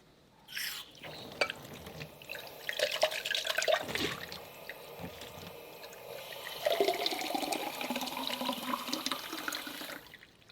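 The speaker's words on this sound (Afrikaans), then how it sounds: "Water." Water runs and splashes steadily for several seconds, a flushing, draining rush with drips in a quiet indoor room, faint movement around it and no voices.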